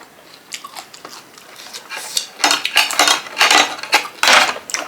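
Crisp raw vegetables served with som tam and crispy pork are bitten, giving loud, close crunches that grow stronger and come in quick bursts, with faint clinks of cutlery and dishes.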